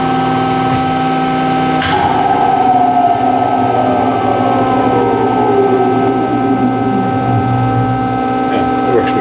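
A Speedfam 625TFG thru-feed grinder spindle winds down under a dynamic brake: a loud steady machine drone with a sharp onset, then a falling whine gliding lower over several seconds amid constant shop hum.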